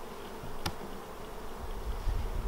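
Honey bees hum steadily at an open hive while the inner cover is lowered during requeening, a continuous close buzz with one brief sharp click partway through.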